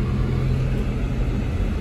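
A car rumbles past on an icy, snowy street in Big Bear, a brief, close, low rolling roar with a steady whir of tires and engine.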